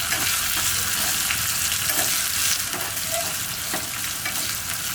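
Onions sauté in a pan for South Indian sambar, making a loud, continuous sizzle up close, broken by repeated scraping and stirring clicks.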